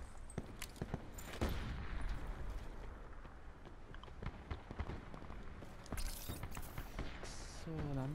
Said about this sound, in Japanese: 後ろから結構銃声がひどいな。